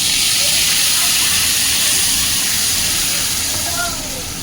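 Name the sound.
onion paste sizzling in hot oil with whole garam masala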